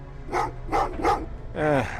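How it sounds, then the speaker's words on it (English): Dogs bark in the Terminator Resistance video game, three sharp barks in quick succession followed by a longer, whining bark, fairly close and clear with no talk over them. "Oh, what's with the dogs?"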